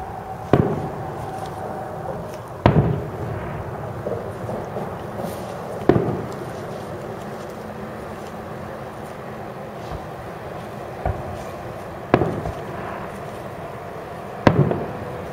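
Fireworks at a 2017 show burst at intervals, about seven sharp distant cracks and booms spaced a few seconds apart over a low steady background murmur, no nearby talk.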